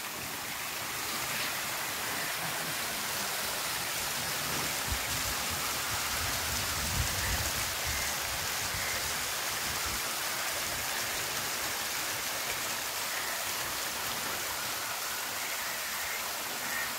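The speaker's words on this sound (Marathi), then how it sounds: "वरून डोंगरावरून वाहणारा धबधबा बघू शकतोय." A waterfall pours down a hillside beside an ancient rock-carved temple at Mora, making a continuous, even rushing hiss of falling water that holds steady throughout with no voices.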